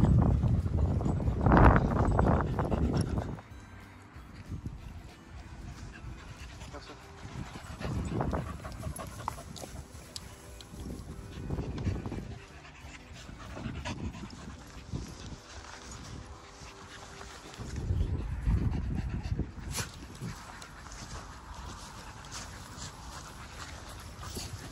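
Small dogs pant on a daily walk through Edinburgh, with rapid breathy panting in bursts up close, faint paws and footsteps, and quieter stretches between.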